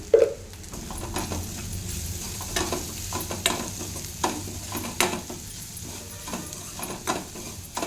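Tomatoes, carrot and cabbage sizzling in a pan while a spatula scrapes and knocks against the metal in irregular strokes, soft frying hiss underneath, close and without talk.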